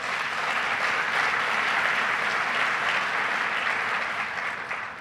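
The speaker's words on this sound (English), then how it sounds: "let's give them a round of applause" Sustained applause from an audience at a governor's public event, a broad even wash of many hands clapping that tapers slightly at the end.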